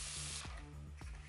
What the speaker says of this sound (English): I'm going to give her a spray with some water